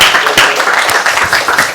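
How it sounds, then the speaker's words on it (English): Clapping from a workshop audience thanking the lecturers fills the space as a loud, continuous patter of many hands, with a few sharper individual claps standing out. "maybe a round of applause for you guys"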